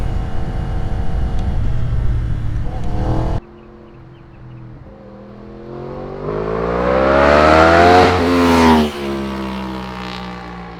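A Yamaha R1 sport motorcycle during a wheelie control test: a loud, close engine roar cuts off abruptly, then the engine revs up in a long, steadily climbing whine before easing back down.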